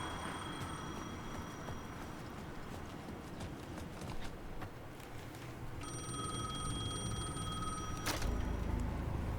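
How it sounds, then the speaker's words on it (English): A phone rings with an electronic trilling tone in the second half of a scene from the video game Alan Wake 2, over faint clopping footsteps and a low ambient background. "Can hear the phone ringing somewhere."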